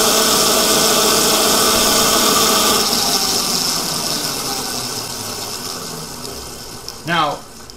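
FTC generator engine running steadily while producing AC power, a continuous mid-pitched hum with harmonic whine that fades slightly, ending with a brief rising squeal near the end.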